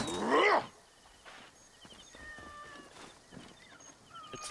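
A cat in the video game Assassin's Creed Origins gives one loud, close meow at the start, followed by quiet game ambience with faint distant sounds.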